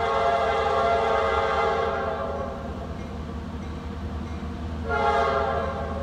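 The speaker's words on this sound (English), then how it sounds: "Apparently we have a freight train." A Norfolk Southern freight train rolls past at Ho-Ho-Kus, New Jersey, its steady rumble under a loud multi-tone horn blast that cuts off midway, then a second short horn sounding near the end.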